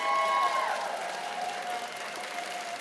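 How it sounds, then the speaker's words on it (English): Crowd of students cheering and applauding at a Caltech convocation ceremony, loud and sustained with a whistle-like tone sliding downward early on, then steady broad roar throughout. "One last cheer"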